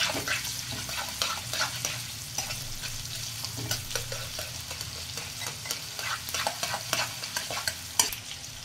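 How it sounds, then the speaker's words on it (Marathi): Chopped onion for prawn biryani sautés in a pan, giving a constant close sizzle broken by repeated spatula scrapes and stirring strokes in an uneven rhythm, with no one talking. "कांदा चांगला परतून घ्यायचा आहे"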